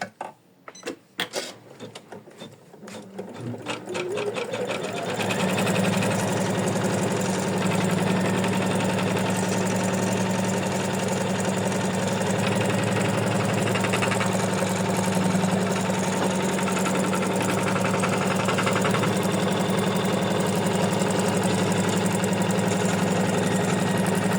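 An embroidery machine sews quilting stitches on a fabric bookmark. After a few starting clicks it ramps up into a loud, steady, rapid mechanical whirring hum that runs on unbroken, close and alone.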